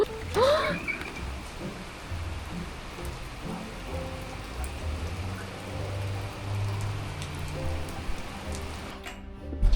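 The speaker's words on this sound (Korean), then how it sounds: "갑자기 비가 엄청 많이 내리기 시작했어요" Heavy rain begins to fall and patters steadily on surfaces nearby, a dense, constant hiss with low rumbling underneath and some brief voices in the background.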